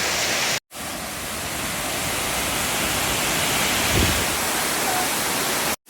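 The Tumpak Sewu waterfall in Indonesia roars as a steady, dense rush of falling water, loud and constant throughout, cut by two brief gaps at the edges.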